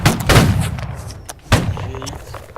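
Two loud video-game gunfire volleys roughly a second apart after a spoken French command to fire, each a sharp crack trailing into a rumbling decay, with quieter noise between.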